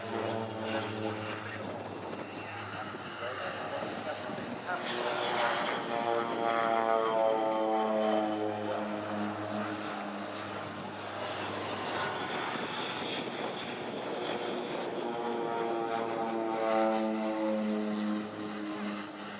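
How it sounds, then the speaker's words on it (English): Swiss PC-7 team turboprop trainers fly an air display, their propeller engines droning and swelling in pitch as the formation passes and manoeuvres at a moderate distance, with no talk. "here's the second, the Swiss PC-7 team"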